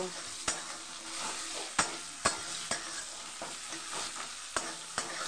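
Chopped onion stirred and fried in a pan for a fish curry with raw green banana, a steady sizzle broken by sharp, regular spatula scrapes and knocks close by, with no talking.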